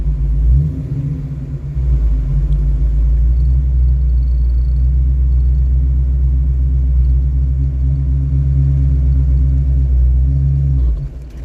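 A Ford Mustang with a manual transmission drives along, its engine giving a steady, loud low rumble that holds for most of the stretch after a brief dip near the start.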